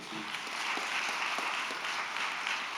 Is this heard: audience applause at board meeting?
yes